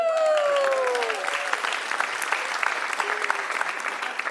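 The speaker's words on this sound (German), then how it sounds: "Ihr klatscht, meine Freunde nicht." Audience applause at a live comedy stage show in Munich, a dense wash of clapping that fades slightly to a steadier patter, with a brief sustained voice tone near the start.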